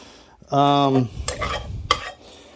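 Broccoli sausage pasta stirred in a hot pan, a loud sizzle followed by scraping stirs and a couple of utensil knocks against the pan.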